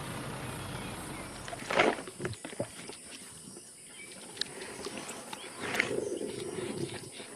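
Lions at Timbavati feeding on wild prey carcasses give out a few low growls and rumbling roars at moderate distance, with rustling and shuffling movement between them against a quiet outdoor background.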